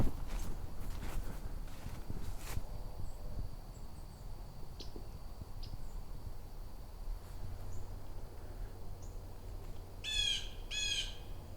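Distant outdoor ambience with a pair of harsh, squawking blue jay calls near the end, faint insects and scattered chirps in the background.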